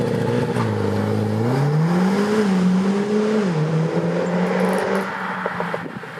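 Mercedes-AMG A45S accelerating hard, the engine note rising steadily through the revs, dipping at a gear change, then climbing again before easing off, loud and heard from inside the car with no talking.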